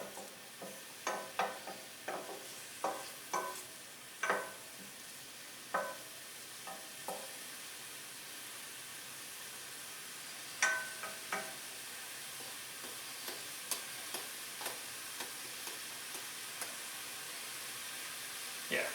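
Chopped onion sizzling in a hot pan as it softens, with scattered crackles and pops over a steady frying hiss, the pan occasionally stirred, close and moderately loud, no talking.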